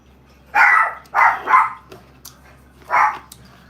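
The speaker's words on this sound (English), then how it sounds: "she doing all that barking" Female dog at home letting out four sharp barks, three in quick succession and one after a pause, close and clear over a quiet room.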